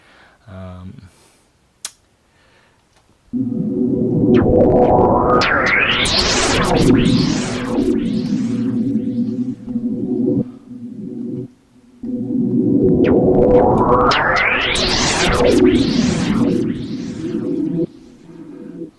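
A sustained Pigments synthesizer tone sweeps up and down with a swirling flanged texture, echoing delays and a reverberant tail, played in two long phrases.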